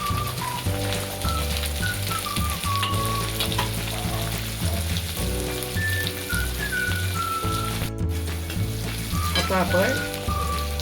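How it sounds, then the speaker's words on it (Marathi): Onion, green chili, crushed ginger and tomato fry in a pan for Marathi-style dahi aloo, a steady sizzle under melodic background music, with a brief spoken phrase. "कांदा टाकून घेणार आहे, मिरची आपण याला परतून घेणार आहोत."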